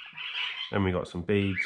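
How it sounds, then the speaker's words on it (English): Pet cockatiels squawk shrilly indoors, a loud, harsh burst up close that carries on behind someone talking. "Sorry about the noise, birds are playing up."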